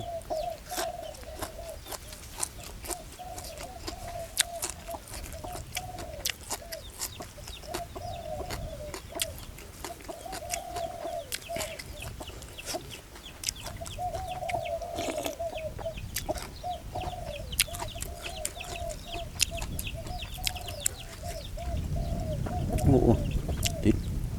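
Chickens cluck in a rural outdoor setting, a steady run of short repeated clucks at middle distance that carries on throughout, over general background ambience with occasional clatter.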